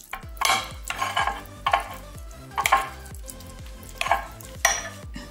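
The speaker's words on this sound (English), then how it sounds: "Mix it up until it's nicely mixed." A spoon stirs salad cream into egg sandwich spread in a bowl, giving rhythmic scraping and wet squelching strokes roughly every half second, close and clear with no voices.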